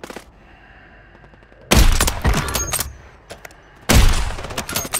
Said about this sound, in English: I put an airstrike on us.